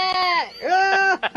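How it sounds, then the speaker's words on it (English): A sheep bleats close by in two or three wavering, harmonic cries with short gaps between them, loud and clear against a quiet background. "You looking at that sheep down there or what?"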